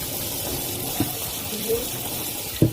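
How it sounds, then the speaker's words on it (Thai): Fresh shrimp are washed in cold water, a steady close wash of running, swishing water with a few soft knocks against the container. "เอาน้ำแรกออกแล้วก็ล้างด้วยน้ำเย็นนะคะ"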